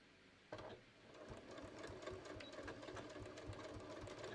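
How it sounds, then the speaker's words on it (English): A sewing machine stitching the waistband seam of a pair of shorts, starting abruptly and then running in a fast, steady mechanical chatter, close and faint with no voices. "I'm going to stitch using a 1/2 inch seam allowance"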